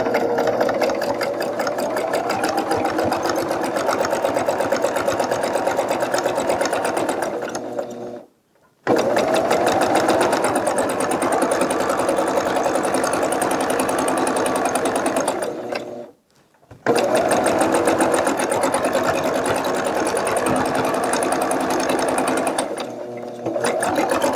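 A sewing machine quilts through a quilt sandwich, its needle chattering in a fast, steady whir that runs loud and close, stopping briefly twice before starting up again.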